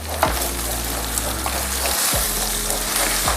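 Moringa leaves fry in hot oil with mustard seeds, onion, turmeric and salt for a thoran, giving a steady close sizzle and crackle with a couple of brief stirring scrapes.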